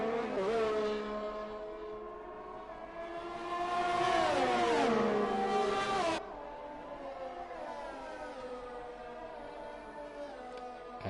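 F1 race cars in F1 2020 at the Austrian circuit, with a Ferrari among them. High-pitched engines whine and shift pitch, rising then dropping through gears as cars brake into a corner, before a quieter steady drone takes over.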